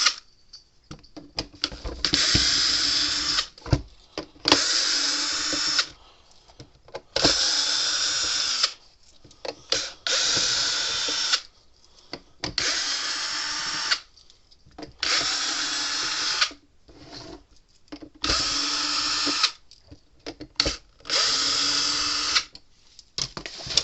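Power drill backing Allen head screws out of a Gallagher W210 livestock weigh scale, a loud whirring motor in repeated bursts of a second or two with short silent gaps between screws, close up and alone.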